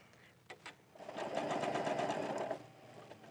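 A sewing machine stitches a buttonhole with a buttonhole foot, the needle swinging left and right. A couple of soft clicks come first, then a close, steady mechanical whir runs for about a second and a half before it stops.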